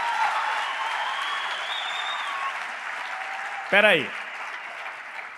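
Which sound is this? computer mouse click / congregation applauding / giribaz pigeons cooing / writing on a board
congregation applauding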